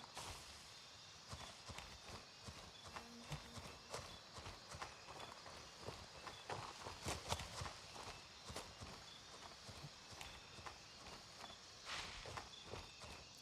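Footsteps closing in through dense jungle in the shooter game Gray Zone Warfare: a steady run of soft, scuffing steps over a constant bed of insect and wildlife noise, never quite clear of the ambience.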